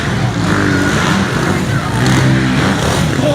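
Suzuki supercross motorcycles race flat out in an arena, their engines a loud, continuous, buzzing roar that swells and shifts in pitch with no break, while a commentator's voice runs over the noise.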